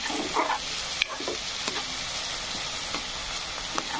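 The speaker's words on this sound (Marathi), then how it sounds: "छानपैकी कांदा असा फ्राय झालेला आहे" Onion frying in a pan for a sprouted-bean gravy, a steady dense sizzle with occasional light clicks and scrapes of stirring, close and continuous, with no talking.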